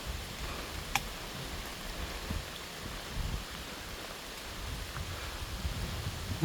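Rain falls outdoors on a mountain hiking trail as a steady, soft hiss with scattered faint drip ticks, heard without any talking.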